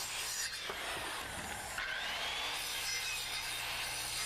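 A hand saw cuts through a wooden stair stringer, a close, continuous rasping stroke sound with scratchy grain texture, fairly quiet and without speech.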